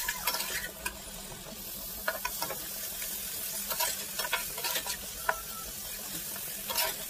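Cumin, chilli powder and ginger-garlic paste sizzle in hot oil for a snakehead fish curry, a steady frying hiss broken by repeated scraping and clinking stirring strokes in the pan.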